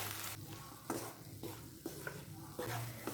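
Ground coconut is mixed into drumstick avial in a pan, giving a low, close sizzle with rhythmic stirring strokes every half second or so, soft and unaccompanied by speech.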